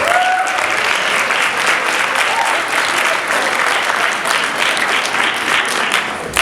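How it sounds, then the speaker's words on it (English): Audience at a student keynote event breaks into another round of applause, a loud, sustained roar of many hands clapping throughout, with a few voices faintly mixed in. "Let's give them another round of applause."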